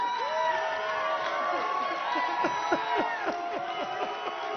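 A stadium crowd chants a drawn-out "Deuce" for soccer player Clint Dempsey during the 2026 World Cup draw, a dense, sustained roar of many voices that can pass for booing, with loud crowd noise throughout.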